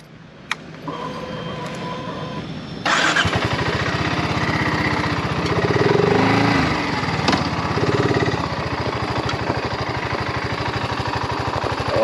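A BSA Gold Star 650 motorcycle engine rumbles during a ride, idling quietly at first, then jumping to a loud, steady, throbbing drone. It swells briefly midway and keeps a constant pulsing beat to the end.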